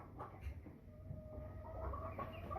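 A large chicken in a sorting cage clucks softly, a few faint, low clucks and rustles close by in a quiet indoor setting, with no one talking.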